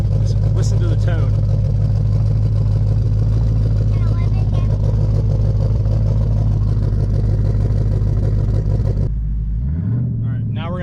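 A Ford Mustang GT 5.0 with an axleback exhaust idles with a deep, loud, steady rumble, then cuts to a quieter moment near the end with a brief rev and a voice.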